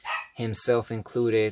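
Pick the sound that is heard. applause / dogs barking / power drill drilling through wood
dogs barking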